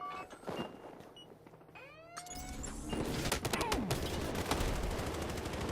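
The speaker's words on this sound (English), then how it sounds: "That guy's using the new gun, the F2000, one of the new weapons from the DLC pack." F2000 rifle gunfire in a Battlefield Hardline Heist match cracks out in rapid bursts over game ambience, loud and busy in the second half after quieter scattered effects at the start.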